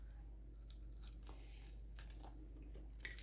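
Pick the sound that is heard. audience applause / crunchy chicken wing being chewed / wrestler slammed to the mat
crunchy chicken wing being chewed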